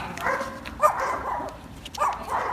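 A dog barks several times at close range, short loud woofs in uneven bursts, with faint voices in the background.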